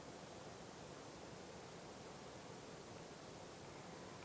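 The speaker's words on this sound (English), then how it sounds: "Hear the sounds of the waterfall." A waterfall gives a steady, even rush of falling water, soft and continuous, with no voices over it.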